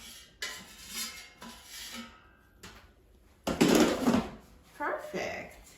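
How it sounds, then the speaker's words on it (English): Cooked orange cauliflower being taken out of an air fryer, with clattering basket and utensil knocks and scraping under a person's talk, the loudest clatter coming near the end. "so I'm going to take it out of the air fryer"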